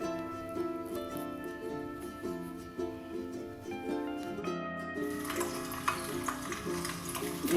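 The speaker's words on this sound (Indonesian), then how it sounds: "Kebetulan saya udah manasin minyaknya ya, kita goreng dulu ya ati ampelanya" Chicken liver and gizzard fry in hot oil with a quiet, continuous crackling sizzle. Stirring taps and clinks run through it, and the sizzle grows brighter and busier toward the end.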